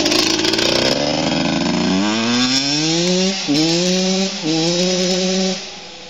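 A dirt bike engine roars loudly up close, holding a buzzing note and then climbing in pitch through several revs, with a brief dip between them, before falling away at the end.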